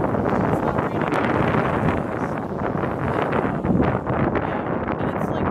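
Steady gusting wind buffets the microphone with a constant roaring rumble, loud and close throughout.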